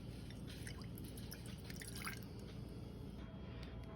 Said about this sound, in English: I'm gonna add a half cup of apple cider vinegar